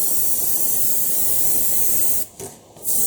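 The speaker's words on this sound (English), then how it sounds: "it's easier to first spray the outside and then the inside" An aerosol spray can painting an MDF ruin model, a loud, continuous hiss that holds steady, briefly stops, then resumes.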